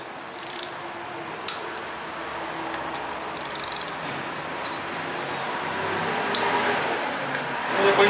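A torque wrench clicks and ratchets in short bursts while tightening bolts in a crisscross pattern on a 2007 Jetta 2.5 20v in a mechanic's workshop, over steady shop background noise.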